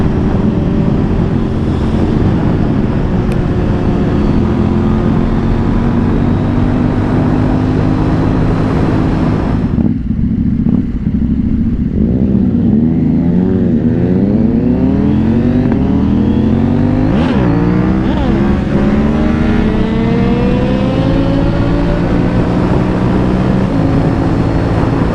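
A KTM Duke 790 motorcycle engine under way, loud and continuous, its note rising and falling through gear changes with heavy wind rush over the microphone.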